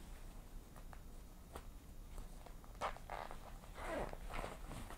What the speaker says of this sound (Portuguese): abro o meu zíper, abro o zíper lá embaixo também